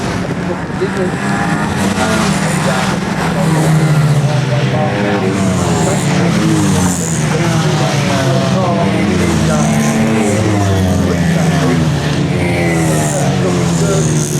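Race cars lap Bovingdon Raceway, their engines a steady, loud, continuous drone with rising and falling pitch as they pass, while a commentator talks over them.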